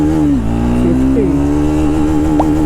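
A Triumph Speed 400 motorcycle pulls hard through the gears, its engine note loud and close, climbing steadily with a brief dip at a gear change before rising again, without pause.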